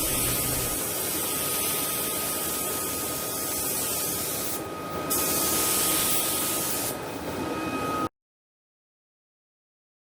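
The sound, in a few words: spray painting base coats on Ducati 748 panels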